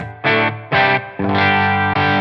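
An electric guitar through a TONEX amp model on a clean setting strikes four separate sustained chords in succession, each ringing clearly, close and loud.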